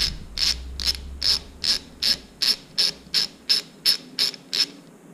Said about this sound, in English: You'll then get your 8mm socket and undo the nut on the inside there.